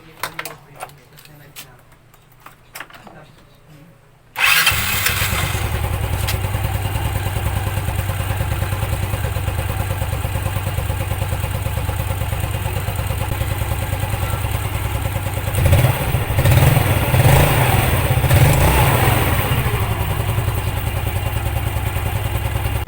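A Yamaha Mio Sporty scooter engine starts after CVT cleaning, catching abruptly and then running at a steady loud idle with some clatter. A brief rise in revs follows partway through.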